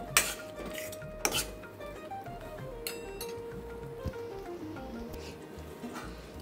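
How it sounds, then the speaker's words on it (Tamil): A metal lid clinks onto a pot of simmering garlic pickle, with a few sharp clanks and rattles of pan and utensils over a quiet kitchen background. "இது நல்லா இப்போ நம்ம ஒரு மூடி போட்டு மூடிடுவோம்."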